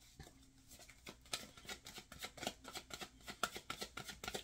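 Tarot cards being shuffled, a rapid run of soft papery riffling flicks and taps at close range, fairly quiet, with no talking.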